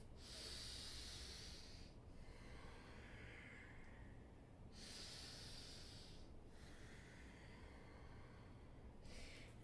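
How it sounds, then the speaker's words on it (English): Slow, steady breathing in and out through the nose during a vinyasa yoga flow, close and soft, with long airy inhales and exhales alternating in an even rhythm of about two to three seconds each. "Breathing in and out through the nose."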